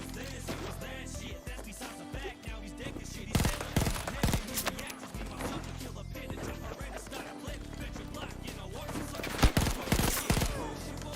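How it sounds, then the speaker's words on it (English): An AC42 semi-automatic rifle fires in the Battlefield 2042 video game, with sharp separate shots and bursts of gunfire over a busy battle backdrop, loud and close, heard alone without talk. "I'm trying out the AC42 right now. It's semi-auto, but it's pretty strong"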